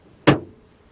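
A Mercedes CLA hood shuts in one sharp close thud that decays quickly, near and alone in quiet surroundings.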